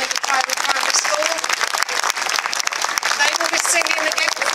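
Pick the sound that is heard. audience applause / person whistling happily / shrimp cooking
audience applause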